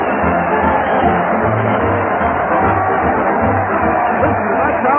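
A big crowd roars and cheers for a comedian's weekly parade to the old Town Hall, a dense, steady wall of voices that holds at full loudness from start to finish.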